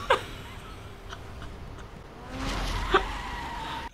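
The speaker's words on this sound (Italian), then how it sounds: "Arriva così la macchina" A car pulls up in the racing video game The Crew, engine whooshing closer with a brief tire squeal and a couple of sharp knocks over steady road noise.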